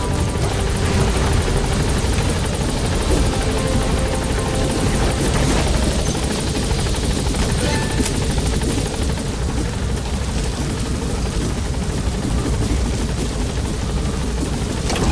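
A helicopter in the video game Metal Gear Solid V lifts off, its dense rotor thump and turbine roar steady, loud and continuous throughout, with no other sounds breaking through.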